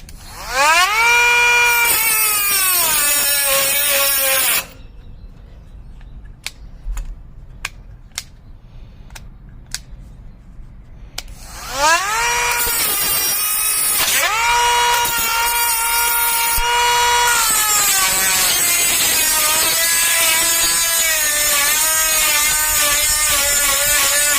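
A Ryobi or Dremel rotary tool cutting: a high, whining motor pitch that rises and falls, running loud and close, cutting out for several seconds in the middle, then starting again and running steadily to the end.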